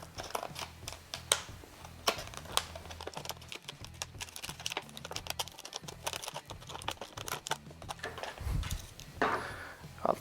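Close, quiet snipping and crinkling of plastic packaging as scissors cut open a laser level package, with irregular clicks and rustles.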